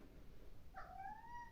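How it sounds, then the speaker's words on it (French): A domestic cat gives one short, rising meow, fairly close and soft, with nothing else heard in the quiet room. "Oui, c'est un chat parleur."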